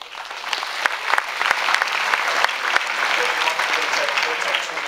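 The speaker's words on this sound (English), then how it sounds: "Well, give a round of applause." A business event audience applauding steadily, dense clapping sustained throughout with a few sharper individual claps standing out.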